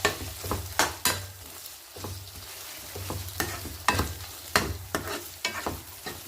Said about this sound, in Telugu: ఇప్పుడు మనం ప్రాన్స్ వేసేసుకుందాము. ఇది కూడా ఒకసారి కలిపేసుకుందాం.